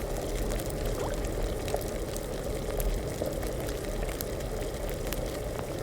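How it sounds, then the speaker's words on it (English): A steady, soft rush of liquid being poured during alchemy brewing in the video game Kingdom Come Deliverance, continuous and even for several seconds with faint small clinks, alone without talk. "I think we just pour it."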